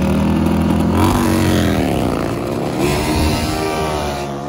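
A nitrous-equipped Harley bagger motorcycle drag racing, its engine roaring loud and close with a rising, revving pitch through a full hard pass, steady and unbroken without any talk.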